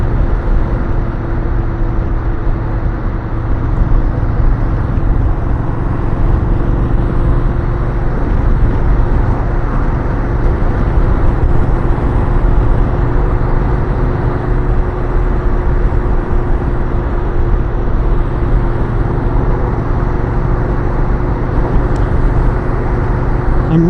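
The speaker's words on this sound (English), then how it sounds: "I'm riding the roughest part of this road, which is down the center for a reason." A Yamaha Star Venture motorcycle riding down the center of a rough, bumpy road, a steady loud engine drone mixed with constant rumble and wind noise from start to finish, with no talking.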